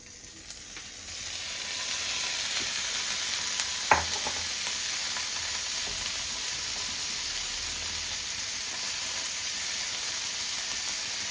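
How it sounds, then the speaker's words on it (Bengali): Salted paneer fries in a pan with a steady, close sizzle and hiss that holds throughout, broken once by a single light clink midway. "এটাতে নুন মাখানো পনিরটা ভেজে নেব।"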